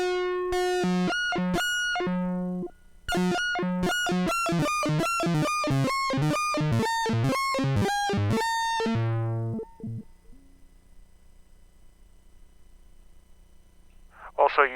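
Synthesizer playing out of pitch, a buzzy tone sounding rapid repeated notes and held pitches for about ten seconds, then dropping to near silence with a faint blip at the end.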